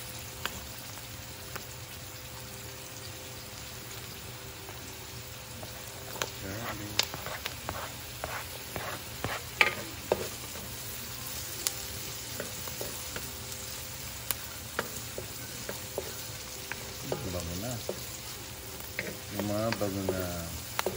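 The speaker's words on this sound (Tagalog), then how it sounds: "Pag po nag-start translucent na po ang onions, bigyan niya pong sunod ang garlic." Onions and garlic sauté in a pan with a continuous sizzle, broken by scattered clinks and scrapes of stirring. A voice talks intermittently over the cooking.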